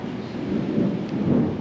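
Low, steady rumble of distant thunder from lightning on a sunny day, rolling continuously and fairly loud with no voices over it.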